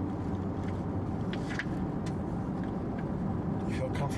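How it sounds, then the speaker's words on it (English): Steady low road rumble fills the cabin of a 2016 Ford Explorer Platinum on the move, a constant droning hum running under people talking. "I hear a little road noise with this, which surprises me"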